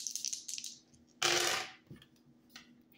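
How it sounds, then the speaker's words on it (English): Dice rolled onto a surface, giving a short burst of clattering and tumbling rattle in the middle of otherwise quiet room sound. "rolling the dice to see what I need to shuffle the deck to."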